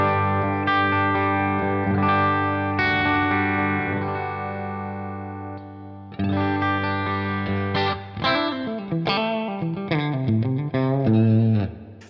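Electric guitar played through an amp's clean channel with reverb on, wired with the four cable method, sustained chords ringing out with long, washy tails, then a break and a busier run of notes and bends, loud and alone.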